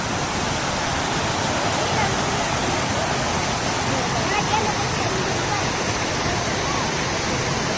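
Water pours steadily over a weir in Kalungupatti village beside a lake, a loud, continuous broadband rush that holds unchanged and close for the whole stretch, with no voices over it.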